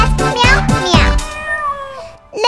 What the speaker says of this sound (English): Little cat, little cat, meow.